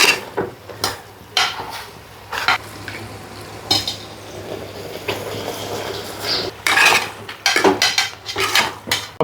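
Masala-marinated chicken tipped into a pot for Sunday dum biryani, with repeated scraping, stirring and metal clinks of a spoon against the pan over a low hiss, close and fairly loud in irregular bursts.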